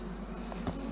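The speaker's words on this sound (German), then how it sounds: "das sind die Kunstschwarmbienen" Honeybees from an artificial swarm hum in a steady, dense, close drone that stays even throughout the brief moment, with no voices over it.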